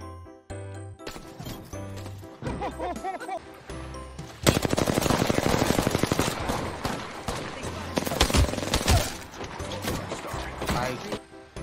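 Rapid automatic gunfire in the battle royale video game Apex Legends, with dense bursts of shots and mechanical reload clicks, loud and sustained through the middle, with voices talking over it.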